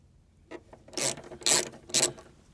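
Bolts come off the front windscreen wiper motor of a Nissan Micra K11, heard as three short, close ratcheting and grinding bursts between quiet pauses.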